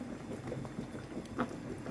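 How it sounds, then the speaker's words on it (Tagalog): Soft, steady bubbling and gentle popping of water boiling in a pot with bananas, quiet and close, with no one speaking. "Ayan, kumukulo na siya."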